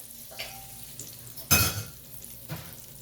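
Spices for a masoor dal tempering crackle and sizzle briefly in hot oil, with a sharp loud burst in the middle and a few softer hisses and clinks around it.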